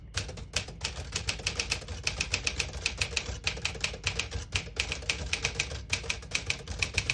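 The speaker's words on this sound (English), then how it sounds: "Beautiful typing machine." Rapid, steady keystrokes on a 1957 Smith-Corona Silent-Super portable typewriter, each crisp strike close and distinct, running in continuous bursts with brief pauses, no voices.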